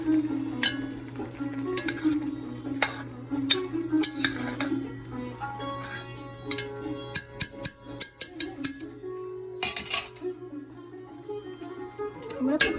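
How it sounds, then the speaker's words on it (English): Cauliflower, asparagus and garbanzo beans in a vegan curry are stirred in a pan, with soft scraping and scattered clinks of utensil on pan over a low, steady background hum. "Give this a little stir."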